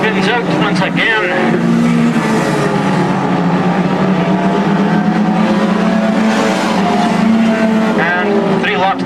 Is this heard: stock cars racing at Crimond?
yes